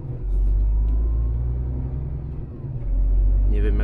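A passenger car pulls past a truck on a narrow road, with loud, steady low engine and road rumble that dips briefly, then swells again near the end, heard from inside a vehicle.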